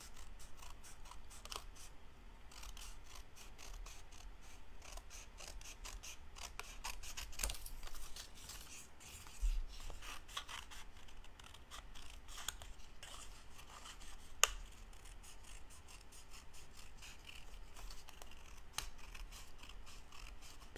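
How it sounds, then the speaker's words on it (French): Close, repeated snipping and crisp rustling as scissors cut through scrapbooking paper in a steady rhythm, with occasional louder snips. "découper le reste avec mes ciseaux"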